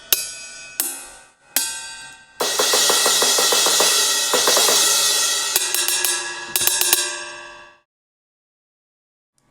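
Metallic percussion swells from the Ferrum trailer percussion plugin: a few sharp clanging hits lead into a loud sustained ringing metallic roar that rises, carries scattered bright strikes, then fades out near the end, with no talk over it.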